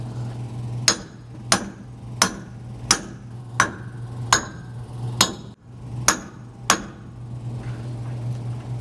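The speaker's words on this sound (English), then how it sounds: "Let's go ahead and try a hammer now." Eight sharp metallic hammer blows on a cast iron king pin lock for a 5th wheel trailer ring out at a steady pace, each with a bright clang, over a constant low hum.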